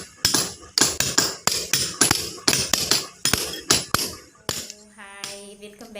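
Hammer blows while a house is being demolished: about a dozen sharp, loud strikes in a steady rhythm, close by, followed by a brief tonal sound at the end.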